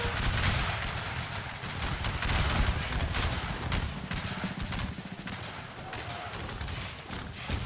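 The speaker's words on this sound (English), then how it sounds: "the Russians have started opening fire" Russian infantry musket fire in a Crimean War Total War battle against the British, a dense, continuous crackle of overlapping shots rolling steadily at mid distance with no voices.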